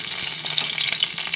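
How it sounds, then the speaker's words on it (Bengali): Whole garam masala frying in hot mustard oil, a loud, close, steady crackling sizzle with no talk. "তুলে নিয়ে ওই তেলের মধ্যে গোটা গরম মশলা দিয়ে দিলাম"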